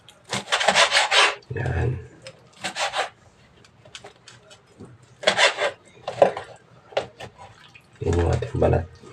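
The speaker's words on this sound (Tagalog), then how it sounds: "So guys, chop natin yung ating lechon." A knife works through roasted pig (lechon) on a wooden board in scraping, rasping bursts, some long and some brief, with quieter gaps and a soft voice speaking between them.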